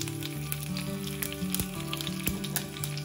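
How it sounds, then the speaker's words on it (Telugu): Curry leaves sizzle in hot tempering oil for garlic chutney dosa, a soft continuous crackle with a few sharper pops, close but quiet beneath a steady background hum. "తాలింపు వేగాక దీనిలో కొద్దిగా కరివేపాకు వేసుకుందాం"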